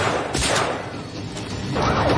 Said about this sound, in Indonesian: Kapten kemudian kehabisan peluru senapan dan mencoba pistol